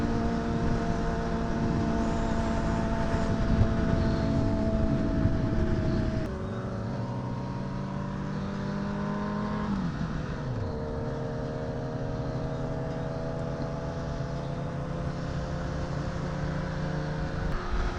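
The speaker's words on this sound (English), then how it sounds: "His bike sound crazy, man. That junk is loud." A loud motorcycle engine, from GSXR 750 and Honda CBR1000RR sport bikes riding in traffic, holds a steady high-pitched drone with pitch shifts as the throttle changes, continuous and close throughout.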